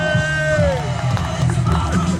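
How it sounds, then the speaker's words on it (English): Crowd cheering and whooping at a car show stage at Atlanta Motor Speedway, a loud rising shout followed by a busy mix of voices and noise, with no distinct clapping. "let's give Scottie D himself a big round of applause"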